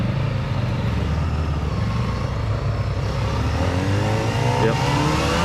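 A Kawasaki Ninja ZX-4RR motorcycle accelerates with a loud, continuous engine drone, its pitch climbing and shifting through gears.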